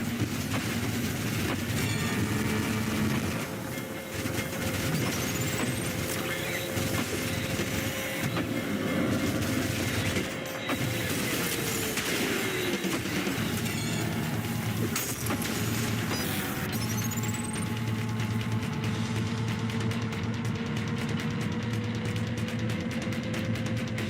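In the video game Ultrakill, a train rolls along the rails with a continuous loud rumble and rhythmic clatter, mixed with metallic squeals and game effects, and no talking.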